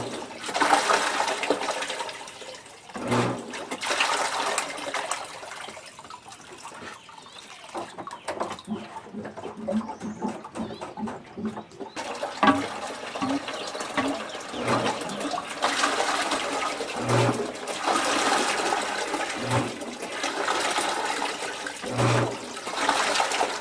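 A backyard pool pump moving water while its filter is being cleared, heard as a steady close-up rush and splash of water with a few low thumps recurring through it, and no talking.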